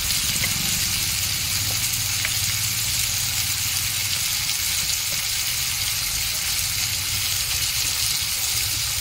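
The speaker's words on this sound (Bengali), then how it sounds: "আমি এগুলোকে সুন্দর আবার ভেজে নেবো উল্টা পাল্টে।" Fish curry base with tomatoes sizzles steadily in a pan while being stirred and turned, a continuous even hiss with faint clinks of the utensil.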